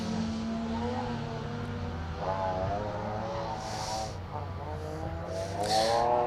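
A rally car on a gravel stage of the Colin Ellmore Memorial Rally, its engine revving and shifting through gears as it approaches and passes, a rising and falling drone with bursts of higher-pitched acceleration, moderately near and alone.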